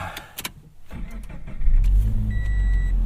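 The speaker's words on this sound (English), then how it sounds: "Let's fire this thing up." A 2017 Toyota 86 with a six-speed manual fires up, its engine catching after a brief starter whir and settling into a loud, steady low idle.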